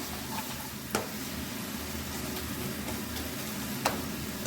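Onion, tomato and gram flour masala sautéing in a pan for egg masala gives a steady, soft sizzle, broken by two sharp spoon taps against the pan.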